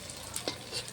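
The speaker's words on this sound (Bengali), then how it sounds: "উনানটা যা সুন্দর জ্বলছে, চটপট হয়ে যাচ্ছে বড়া ভাজা।" Banana flower fritters fry in hot oil over a briskly burning clay stove, giving a brief, moderately loud sizzle with a few sharp crackles, with no talking.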